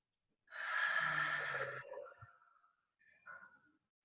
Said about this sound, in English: So allow yourself to breathe.